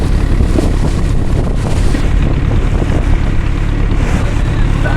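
Wind gusts steadily across the microphone at a waterside fishing spot, a loud continuous rumbling roar with no break, and water may be faintly audible beneath it.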